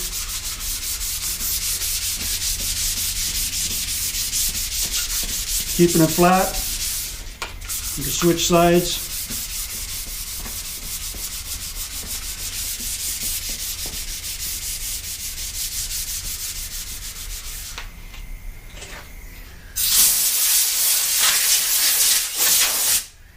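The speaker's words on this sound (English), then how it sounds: "And dry sanding is messy" Sandpaper dry sanding a wooden skateboard deck produces a loud, continuous, close-up rubbing hiss that runs steadily throughout, with brief talk and a short pause partway through.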